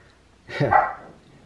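A single short dog bark, close by, in an otherwise quiet room.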